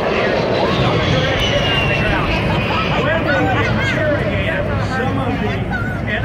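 An A-10 Thunderbolt jet roars past at the 2018 Cleveland National Air Show, its loud engine noise rushing steadily throughout, with voices murmuring faintly beneath.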